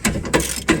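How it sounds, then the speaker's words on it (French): A ratchet wrench loosens the rear brake bolts on a Fiat Ducato during a disc and pad change. Three short clicking bursts come close together and fairly faint. "Après, il faut desserrer derrière, là, les boulons."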